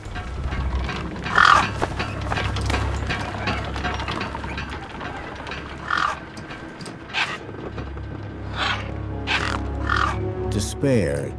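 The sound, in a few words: scavenger bird calls in video game Beyond a Steel Sky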